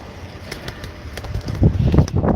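Pigeons flutter and coo around a loft under a cloudy sky, with soft wing flapping growing a bit louder toward the end.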